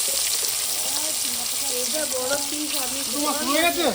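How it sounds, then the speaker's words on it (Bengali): Food fries in a pan in a home kitchen with a steady close hiss and sizzle, while a voice and rising, bird-like tonal chirps sound over it. "মা ভাজতে বসে গেছে"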